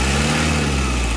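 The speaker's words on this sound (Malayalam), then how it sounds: "ഇതാണ് ശരിക്കും ഇതിന്റെ ഇനോവയുടെ സൗണ്ട്" A Toyota Innova engine running after its engine mounts and timing belt were replaced gives a steady, dense mechanical roar, close and loud, with no pauses or voices.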